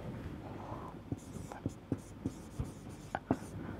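A pen scratching a Taylor series expansion onto paper during a Newton-Raphson method lesson, a string of short, quiet strokes and taps at an uneven rhythm, heard close up under soft low speech.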